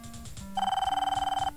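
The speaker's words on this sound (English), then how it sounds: "oh, is that his phone again?" A telephone rings in the Police Quest: Open Season video game, a rapid electronic trill with a warbling pulse, heard as one long ring after a short lead-in tone.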